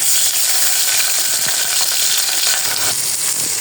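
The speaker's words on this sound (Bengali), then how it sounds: "এখন আমি পোলার চালটা একটু হালকা ভেজে পরে মিক্স করে দিব আর কি।" Polao rice fries in hot oil in a pot, giving a loud, steady, close hiss of sizzling with faint scraping from stirring and no talking.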